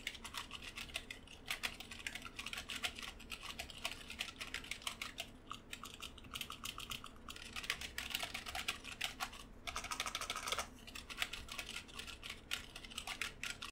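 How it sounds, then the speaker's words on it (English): Rapid, soft typing on a Corsair K55 rubber dome keyboard with muted, dull keystrokes in uneven bursts and short pauses, close up and alone. "Here is a typing test so you can hear the switches in action."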